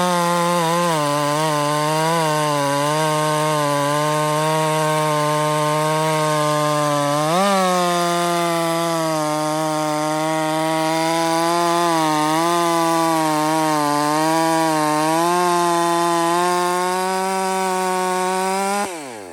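A $320 MS460 clone chainsaw cuts through logs with a loud, sustained two-stroke whine. Its pitch dips and rises as the chain loads into the wood, then it winds down at the end.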